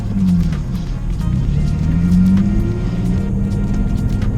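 Drift car driving along with a steady low engine drone and a sustained whining tone from the differential rising and falling over it, continuous and close from inside the cabin.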